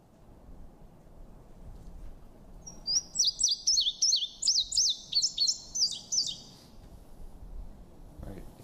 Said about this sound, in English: It's the song of the indigo bunting.